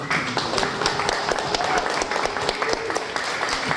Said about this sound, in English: If we have a round of applause for our panelists.